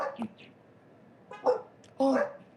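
A dog gives a few short barks and yips, fairly faint and spaced out, heard indoors over a quiet background.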